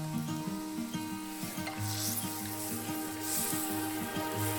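Pabda fish frying in hot oil with turmeric and salt gives a steady close sizzle and spatter, over a low repeating musical background.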